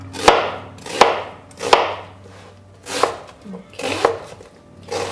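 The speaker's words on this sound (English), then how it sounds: "I'm just gonna go ahead and quarter the onions," Knife chopping onions on a cutting board, with several sharp, evenly spaced strikes and a soft low hum underneath.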